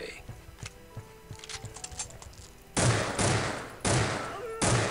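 Bursts of automatic gunfire in the Soldier of Fortune II video game erupt in several loud, ragged volleys after a quieter stretch of clicks and small noises.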